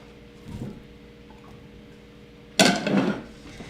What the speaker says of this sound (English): we're just going to mix the berries